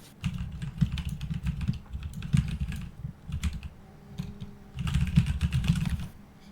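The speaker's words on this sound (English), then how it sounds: "Furious typing" Rapid, furious typing on a computer keyboard, dense bursts of clattering keystrokes picked up close by a microphone, easing off briefly in the middle before surging again, with no voices over it.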